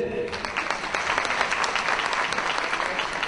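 Audience applause at a stand-up comedy show, a dense steady crackle of many hands clapping for several seconds at moderate loudness, with no voices above it.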